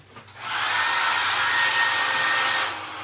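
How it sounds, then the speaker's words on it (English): A hair dryer blows on a freshly painted primitive sunflower craft, a loud, steady whooshing roar that starts abruptly, runs for about two seconds and then cuts back down. "My dryer has a mind of its own."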